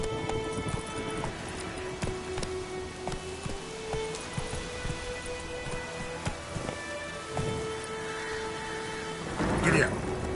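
Video game horse Roach galloping in The Witcher 3, rhythmic hoofbeats under rain-like patter and game sounds, with a voice speaking over it.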